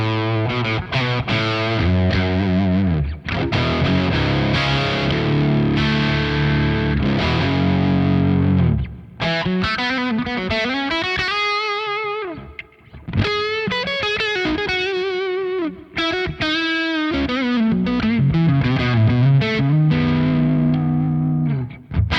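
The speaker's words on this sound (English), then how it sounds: "It's probably a bit too much reverb, but it's nice." Distorted electric guitar through a Revv Generator 100R MKIII amp on channel 2 in drive mode 1, washed in generous reverb; loud, sustained chords and ringing single-note lines played alone, with a few brief pauses.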